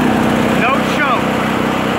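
HF Predator small engine running without choke, a close, fast steady putter with a brief rising rev and a voice talking over it.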